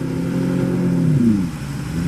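An outboard motor, about 150 horsepower, revs hard as a boat pushes off a shallow sandy launch at the St Lucia Estuary, a loud close engine whose pitch climbs and then drops back.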